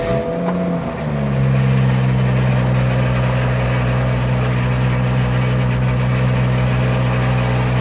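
Porsche engine on a cold start, running loud and close with a steady idle drone after an initial rise in revs, no voices present.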